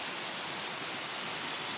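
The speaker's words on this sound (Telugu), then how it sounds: "చూసారా వర్షం అంత బాగా" Heavy rain pouring down in Hyderabad, a dense, even hiss of falling water with no breaks and no talk.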